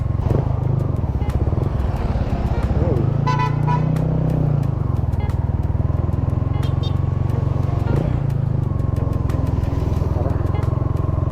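A Yamaha Sniper 155 motorcycle fitted with a Kalkal pipe exhaust idles and revs close by, a throaty, pulsing exhaust drone with a brief rise in pitch midway, mixed with faint street traffic and a distant voice.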